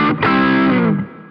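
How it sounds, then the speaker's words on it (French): Electric guitar played through the T-Scream distortion on a Boss ME-80 multi-effects unit: one loud, saturated strummed chord that sustains briefly and then fades, with no talk. "T-scream."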